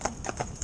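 A pair of Friesian horses pulling a carriage, their hooves striking in quick rhythmic clip-clop beats, close and clear with nothing else over them.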